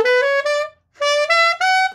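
An alto saxophone sounds a sustained altissimo B in three bright, reedy tones. The first is held for about three quarters of a second, then after a short gap come two more separated by brief breaks, played solo and close with no talk.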